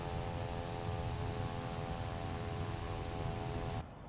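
Airbus VTOL airliner arriving in Microsoft Flight Simulator 2024, a loud, steady roar of engine drone and hum holding level throughout, then dropping off abruptly at the very end.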